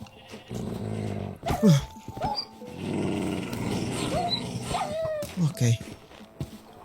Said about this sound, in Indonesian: Bahaya banget, serigala yang ngincer domba.